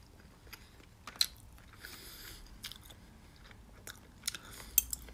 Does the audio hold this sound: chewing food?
yes